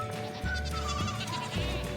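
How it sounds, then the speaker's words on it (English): Nubian goats bleat close by outdoors in a valley, with several drawn-out wavering calls overlapping across two seconds against a soft background hum. "Crazy goats."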